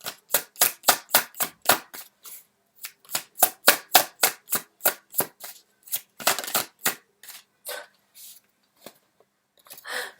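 Tarot cards are shuffled in quick repeated riffles and slaps, a rhythmic run of sharp card flicks close up, pausing briefly before more bursts and a final draw.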